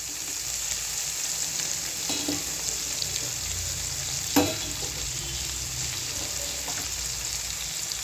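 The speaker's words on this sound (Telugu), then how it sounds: "ఇదిగో ఆలుగడ్డ వేసుకున్నాను." Potatoes sizzle steadily in a hot curry pan, with a few scraping stirs and one sharper clack of the utensil against the pan, close and alone without talk.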